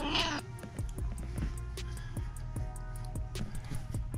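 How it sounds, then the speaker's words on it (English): A deaf cat gives a loud, drawn-out, wailing meow that goes on for several seconds, close to the listener, with a short sharp noise right at the start. "She's actually a deaf cat, so when she does meow, it is kind of ridiculous."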